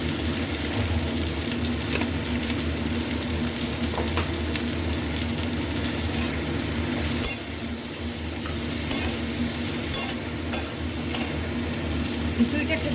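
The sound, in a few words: rice and lentils frying and being stirred in a pan for khichuri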